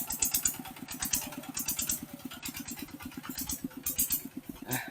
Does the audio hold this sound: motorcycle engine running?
yes